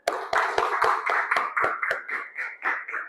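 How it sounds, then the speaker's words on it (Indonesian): Students in a classroom clap their hands together in a rhythmic, evenly spaced series of about a dozen sharp claps, close and clear, slowing slightly toward the end. "Tunjukkan semangatnya dengan tepuk tangan."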